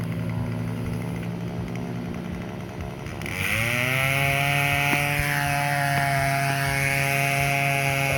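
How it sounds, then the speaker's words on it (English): A chainsaw idles, then revs up to a loud, steady whine and holds there, the engine pitch shifting slightly as it cuts up a tree. "Sorry about the chainsaw noise, Ricky."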